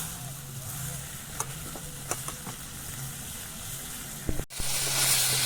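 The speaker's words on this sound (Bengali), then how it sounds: "আমি ভাজা আলুগুলো এবারে মাংসের মধ্যে দিয়ে দিচ্ছি ভালো করে কষিয়ে নিচ্ছি" Fried potatoes tossed with yogurt chicken in a pan in a village kitchen, with a constant frying hiss, scattered stirring scrapes and knocks, and a louder burst of sizzle near the end.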